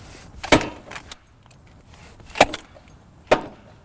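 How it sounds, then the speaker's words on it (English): Drive shaft of a Ranch Rite HT-20 hay tedder shoved and locked into place, giving three sharp metallic clacks spread over a few seconds, close by, with faint rattling between. "we're gonna stick the drive shaft on like so"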